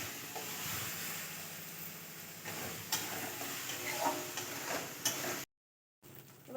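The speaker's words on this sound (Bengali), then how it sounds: "তেলের মধ্যে জিরে ফোড়ন দিয়ে আদা পেঁয়াজ রসুন বাটা ভেজে নিচ্ছি" Ginger, onion and garlic paste frying in oil with cumin seeds: a moderate continuous sizzle with frequent stirring scrapes and ticks, broken by a brief total silence near the end.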